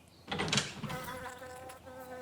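Bees buzz close by in a backyard in Asheville, North Carolina, just out of hibernation, a loud burst of activity early on, then a steady harmonic drone that lingers near the listener.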